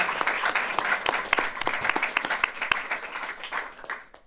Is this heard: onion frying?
no